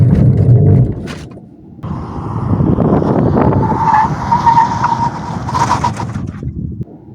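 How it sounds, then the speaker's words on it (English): A car brakes hard with ABS engaging, tires squealing and skidding loudly under engine noise, a sustained screech lasting several seconds before fading. "Stop the car, hard. Let the ABS engage"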